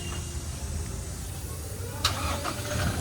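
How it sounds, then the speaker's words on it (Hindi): Cars pull away one after another from a spot where several vehicles are gathered, engines rumbling steadily at moderate distance with a brief sharper burst partway through, all under constant outdoor background noise. "और अब दोनों गाड़ी जा रही है।"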